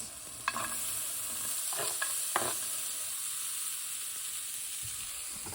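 Chorizo meat fries in a pan under a constant sizzling hiss, while a few distinct scraping stir strokes come near the start and middle, then give way to steady frying.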